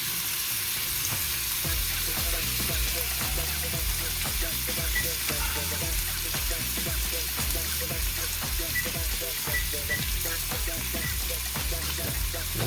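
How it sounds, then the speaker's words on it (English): Ribeye steak searing in an air fryer, a continuous loud crackling sizzle with rapid irregular pops and spits throughout, heard close up with no voices over it. "put our steak in there. Get that sear going."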